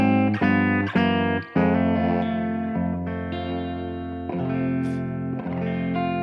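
Electric guitar strums a descending chain of dominant chords, each ringing and sustained with effects-laden, slightly distorted tone, played alone with no talk.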